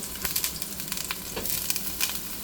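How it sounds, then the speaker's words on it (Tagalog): Steady crackling sizzle of food frying in a pan, with scattered pops and spatters, close and fairly loud, no voices. "Magpipreto na tayo."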